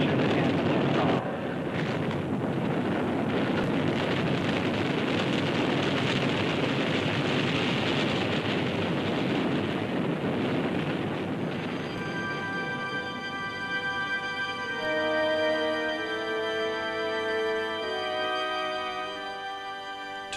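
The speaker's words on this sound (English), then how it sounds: "Main engine start. 3, 2, 1. Solid ignition and liftoff." A space shuttle's engines ignite and it lifts off with a continuous, loud, broadband roar that holds steady, later joined by sustained tonal music.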